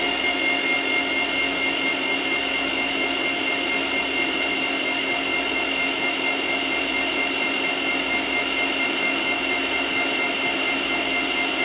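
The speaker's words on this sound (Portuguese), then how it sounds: "Começa a pesar na batedeira" A stand mixer beats thick, heavy cake batter in a kitchen, a loud, steady motor whine that holds constant throughout with no pauses and no talking.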